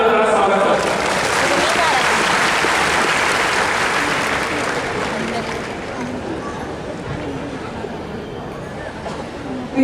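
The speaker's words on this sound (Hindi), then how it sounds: "सुश्री लता सैनी जी तालियां बजाकर स्वागत करते हैं।" Applause from an audience in an indoor stadium welcoming a former minister on stage at a World Tribal Day event, a broad sustained wash of clapping that fades slowly, with crowd murmur underneath.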